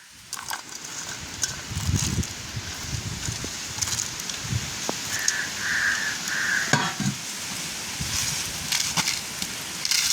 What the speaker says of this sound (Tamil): இப்போ நாங்கள் வட்டி வச்சிருக்கிற பச்சை மிளகா வெங்காயத்தை போடுவோம்